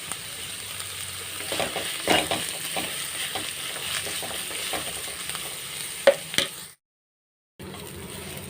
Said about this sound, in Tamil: இப்போ வெங்காயம் வதங்கிருச்சு